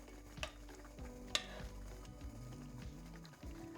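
Chicken being stirred in a hot pan for a Tuscan-style dish, with soft scraping and a couple of sharp utensil knocks over a low simmering sizzle and a steady hum, close and quiet.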